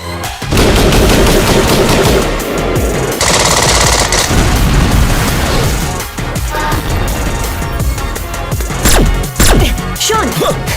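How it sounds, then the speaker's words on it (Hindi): Gunfire in an action scene from the Indian film Vivegam: loud sustained bursts of automatic fire and heavy impacts over a dense score, with no one speaking. "Michael shoot"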